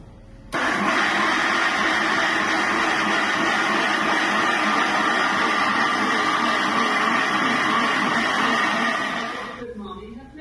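An electric grinder grinds rice with a steady, loud whirring drone for about nine seconds, then winds down at the end; no talking over it.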